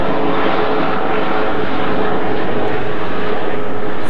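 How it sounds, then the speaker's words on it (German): Helicopter flying overhead outdoors, a loud, steady broadband engine and rotor roar that holds constant throughout without fading. "erstmal einen Hubschrauber."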